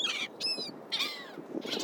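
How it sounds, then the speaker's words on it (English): Several birds at a beach give loud, close, harsh calls in three short bursts with brief gaps between them. "What are these birds doing?"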